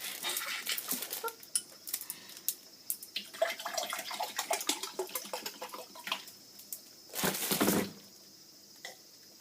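Water running from a kitchen tap while cooking, with clattering dishes and utensils over an intermittent stream and a brief louder gush near the end.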